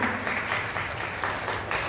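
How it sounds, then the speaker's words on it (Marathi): An audience at a women's literary conference in Nashik claps together, a steady, fairly faint wash of applause from a hall crowd with a few louder swells. "जोरदार एकदा टाळ्या वाजवून जाऊया"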